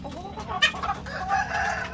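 Five-year-old white leghorn cross barred rock laying hens, a close cluster of clucks and squawks in a short continuous burst, moderately loud with the barn's hum beneath.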